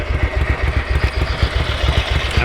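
A Ducati 900SS bevel-drive engine idles close up, a loud, steady, lumpy low-pitched thrum with an even pulsing beat and no talking over it.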